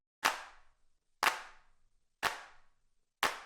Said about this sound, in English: so I'll add claps. For those claps, I'm using Palmas, which is a free Max for Life device